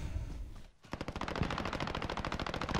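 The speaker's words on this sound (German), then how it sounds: "Boah, die wird geschossen hier irgendwo." Rapid automatic gunfire rattles in Call of Duty: Modern Warfare Warzone battle royale, a long sustained burst of evenly spaced shots following a quieter stretch of ambient game sound.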